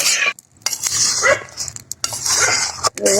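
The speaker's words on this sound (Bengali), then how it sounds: "এখন আমি জোরে জাল করে এই জুসটাকে নেড়ে সেড়ে টানিয়ে নিই" Tomato juice being stirred and scraped hard in a wok while it cooks down into homemade tomato sauce, giving close, continuous scraping and sloshing bursts with brief pauses between strokes.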